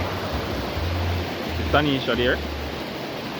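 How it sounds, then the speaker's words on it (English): Broad, steady roar of a swollen river rushing after Hurricane Melissa, constant and close throughout, with a brief voice speaking over it midway. "So rushing water now."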